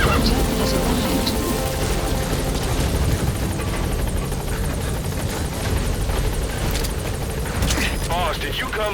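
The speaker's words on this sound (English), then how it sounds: "Support helicopter has arrived." A support helicopter's rotor drones steadily throughout in Metal Gear Solid V: The Phantom Pain, mixed with dense game background noise and scattered gunfire-like bursts, with voices underneath.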